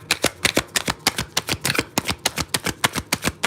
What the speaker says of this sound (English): Did I even shuffle these